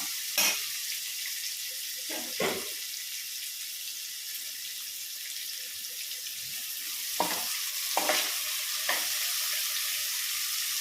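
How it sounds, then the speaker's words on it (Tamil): Onions sautéing in a pan for vegetable biryani, a steady broadband sizzle throughout with a few short scraping stir sounds scattered across, close and fairly quiet, with no voices. "கொஞ்சம் வெங்காயம் நல்லா வதங்கட்டும்."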